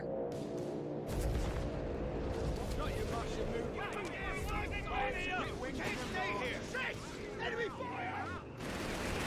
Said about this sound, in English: Those mortars are...